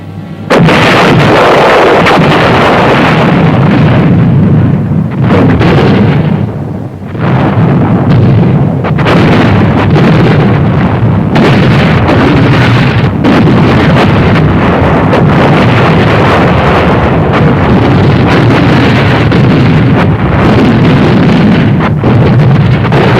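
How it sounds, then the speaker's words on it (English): An artillery and mortar barrage with other supporting weapons pounds a built-up area before an infantry attack, a loud continuous roar of overlapping blasts and rumbling fire that barely lets up, buffeted by wind on the microphone. "The barrage to soften up the enemy began. Artillery, mortars, and other supporting weapons."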